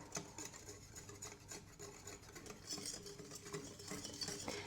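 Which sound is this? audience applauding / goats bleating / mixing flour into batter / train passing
mixing flour into batter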